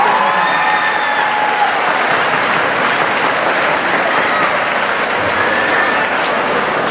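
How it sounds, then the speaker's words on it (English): Audience applause fills a high school homecoming assembly gym, steady sustained clapping from a large crowd of students for the whole stretch, loud and continuous with no talking over it. "I think the Sweet 16 needs another round of applause."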